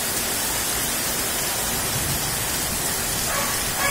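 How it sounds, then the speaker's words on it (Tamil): Heavy night rain in Perambur, Chennai, a steady dense hiss of downpour filling the whole stretch at constant loudness, with no voices. "நல்லா வந்துடுச்சு மழை."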